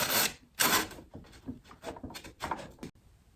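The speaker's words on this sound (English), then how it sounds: "we'll take that out and hopefully not disintegrate the drawer" Old wooden drawer dragged out of an aged armoire, a few scraping, knocking bursts of wood on wood, close and fairly loud with short pauses between pulls.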